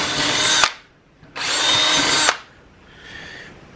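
A power drill bores a half-inch hole for a homemade cook table in a cargo trailer. It makes two loud, steady whirring runs with a brief pause between them, then a quieter, fainter spin.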